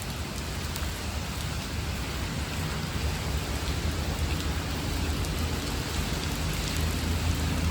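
Steady rain falls heavily and evenly, a dense continuous hiss with occasional low rumbles underneath and no voices.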